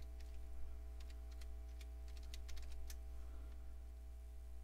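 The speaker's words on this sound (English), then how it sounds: "I'm going to type in XP Starter, all caps of course." Quick bursts of keystrokes tap on a computer keyboard, close and faint, under a steady low electrical hum.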